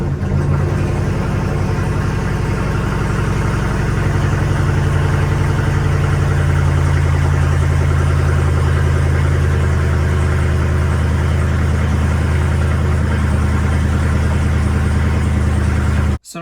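A Jeep Rubicon 392 V8 idling after a full tune and PCM swap, a loud, steady deep rumble running unbroken for about sixteen seconds before cutting off abruptly at the end.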